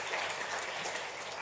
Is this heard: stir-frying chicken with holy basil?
no